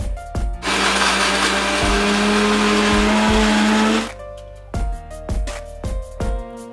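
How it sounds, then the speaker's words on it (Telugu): A mixer grinder whirs loudly through ginger, dried red chillies and salt in one long run of about four seconds, then pulses in several short, sharp bursts separated by brief pauses. "ఇప్పుడు మిక్సీ వేస్తాం"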